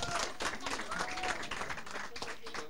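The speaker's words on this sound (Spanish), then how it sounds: "Más aplausos." Student audience clapping at a school estudiantina performance, a steady, moderately faint patter of hands with voices murmuring underneath.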